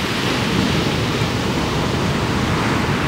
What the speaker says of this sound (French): il y a des grosses vagues, grande plage